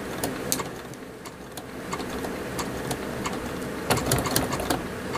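A sewing machine runs steadily while stitching a craft cord koozie, its motor a continuous mechanical hum with a few sharper clicks and a louder burst near the end, close by and with no talk.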